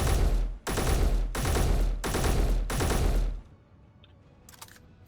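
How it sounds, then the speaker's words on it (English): An MR30E rifle in the video game Space Engineers fires three-round bursts, five loud broadband bursts in quick succession that fill the first three seconds, followed by a quiet tail with a few faint clicks. "the MR30E, which has a 3-round burst to it"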